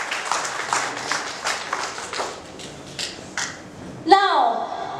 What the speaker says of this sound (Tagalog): Sige nga po, sa palakpak para sa Panginoon.